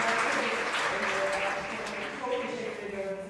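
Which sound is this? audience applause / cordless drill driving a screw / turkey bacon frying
audience applause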